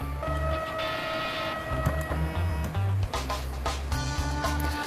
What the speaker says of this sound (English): I can home the machine using this device right here.